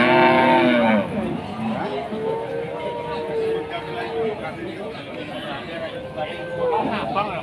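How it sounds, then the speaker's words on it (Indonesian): Cattle moo loudly nearby at a livestock market, with a long low call at the start and more bellows following, while people chatter in the background. "Dan kali ini juga ada deretan sapi-sapi betina."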